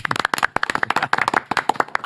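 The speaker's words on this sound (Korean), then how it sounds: "김병기 의원님 박수로 맞이합니다" A small group claps in quick, sharp, uneven bursts to welcome lawmaker Kim Byung-gi onto a Korean talk show set, with close, bright hand claps and no talk.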